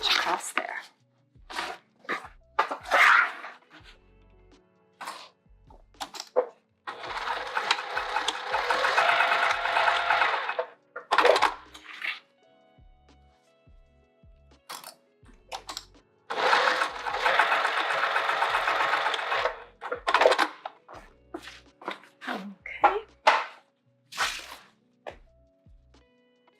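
A sewing machine stitches across a bucket tote in two sustained runs of several seconds each, close and steady, with clicks, handling knocks and short bits of talk in between.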